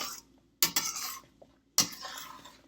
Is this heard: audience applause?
no